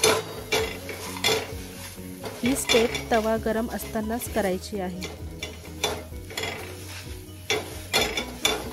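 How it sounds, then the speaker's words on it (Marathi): A metal tumbler crushes green chilli and garlic on a hot iron tawa, making repeated close scraping and grinding strokes with sharp metallic clinks while someone talks over the work. "मी इथे फुलपात्राच्या सहाय्याने मिरची आणि लसूण तव्यात रगडणार आहे।"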